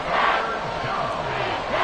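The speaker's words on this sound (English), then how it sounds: "The Arrowhead crowd in full roar" A packed Arrowhead Stadium crowd roars steadily at an NFL football game against the Texans, a dense, loud, continuous wall of shouting and cheering with no gaps.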